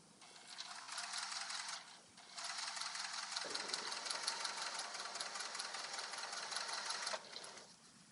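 A sewing machine fitted with a seam guide stitches in two sustained runs of rapid, even mechanical clatter, pausing briefly in between, heard up close.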